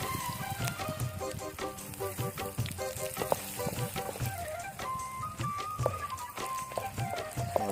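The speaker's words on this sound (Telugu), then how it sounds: "ఇవన్నీ వేసుకుని మనం ఫస్ట్ ఏంటంటే ఫ్రై చేసుకోవాలన్నమాట" Dried red chillies and salt fry in a pan for quail and egg curry, giving a steady close sizzle with crackling pops throughout, no talking.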